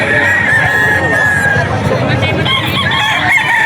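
An eight-month-old hiraw gamefowl rooster crows in a long drawn-out call at a busy auction market in Bocaue, with clucking fowl, crowd babble and nearby talk around it.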